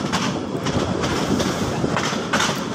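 A Narayanganj DEMU commuter train rolls slowly along the rails in Bangladesh, a steady rumble of wheels with soft clickety-clack beats heard close and continuous, no voices.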